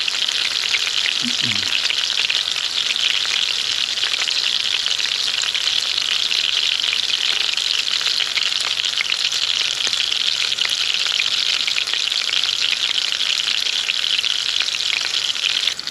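Dried fish frying in a pan, a dense continuous sizzle and crackle of hot oil heard close and loud throughout, with no talk.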